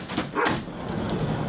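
A dog barks and yips a few times, close and fairly loud, during a temperament test at a K9 training session.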